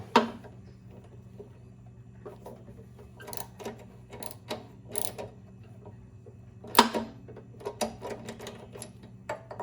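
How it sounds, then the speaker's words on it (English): A socket wrench ratchets in short irregular clicks while unbolting a spark plug from a small engine, with scattered knocks and pauses between turns, near and moderately quiet. "you're going to take your socket and just unbolt the plug"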